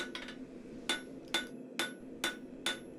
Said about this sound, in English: it's draw out a nice gradual taper from the poker end up to your basket handle.